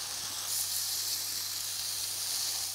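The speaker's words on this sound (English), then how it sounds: "Make sure the pan is hot. So place it on. It's exactly what you want to hear." Marinated pork steak sizzles in a hot pan, a steady, close hiss of frying that holds at an even level throughout with no pauses and no one talking.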